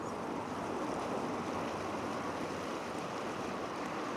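A river at Eikenhof runs past stones beside a freeway, giving a steady, continuous wash of flowing water with broadband noise and possible wind, fairly faint and unbroken throughout.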